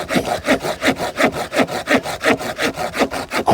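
A GTIWUNG folding saw cuts through wood in steady, even back-and-forth strokes, loud and close, about four strokes per second with no voices.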